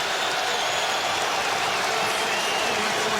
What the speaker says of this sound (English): The collection of Hawk fans applauding the decision